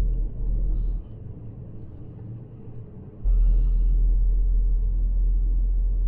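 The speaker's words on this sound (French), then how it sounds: "Je vais te montrer comment moi je fais pour pouvoir accélérer vite quand je double." A Ford Puma ST Line accelerates to overtake on a road, its engine giving a steady low rumble that steps up louder partway through.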